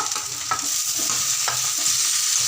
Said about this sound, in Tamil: வெங்காயம் போட்டுக்கும், சின்ன வெங்காயம் போட்டுக்கும், பச்சை மிளகாவும் போட்டுக்கும், தக்காளி போட்டுக்கும்